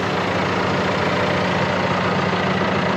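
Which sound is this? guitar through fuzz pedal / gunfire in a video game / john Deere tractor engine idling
john Deere tractor engine idling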